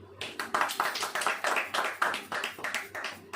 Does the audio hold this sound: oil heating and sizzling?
no